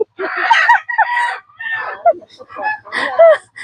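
Chickens cluck and squawk close by in a busy, uneven series of calls with short pauses between bursts.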